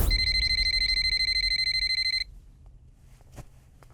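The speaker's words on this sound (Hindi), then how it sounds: "अरे फोन इतनी देर से बज रहा है, उठाते क्यों नहीं?" A telephone rings with a rapid electronic trilling pattern for about two seconds and then stops abruptly, leaving a quiet room with faint small noises.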